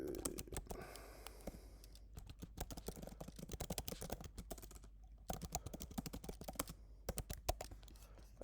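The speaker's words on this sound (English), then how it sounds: "So maybe I'll just type in" Fast, irregular typing on a computer keyboard, close and clear, with bursts of key clicks broken by short pauses and no talk.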